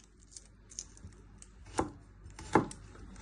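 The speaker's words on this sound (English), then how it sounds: "you want to get your garlic and trim your ends." A knife cuts the ends off garlic cloves on a cutting board in a home kitchen, giving a few soft taps and then two sharper chops near the end. It is close by and quiet, with no talking.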